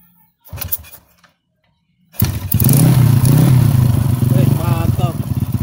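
A motorcycle starting and running on only its CDI with no voltage regulator fitted: a few brief clunks, a pause, then the engine catches and runs loud and close with a steady rough idle.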